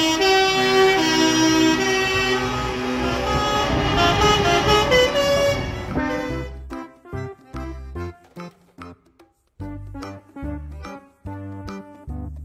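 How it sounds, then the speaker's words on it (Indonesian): A box truck rumbles with a steady, loud engine note, then gives a run of short, rhythmic horn toots with gaps between them, heard up close. "Mobil truk box."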